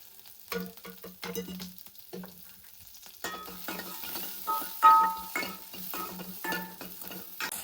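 Onions tossed into a mustard-seed tempering, a soft close sizzle broken by repeated scraping strokes of a spatula and small metallic knocks against the pan, uneven and rhythmic.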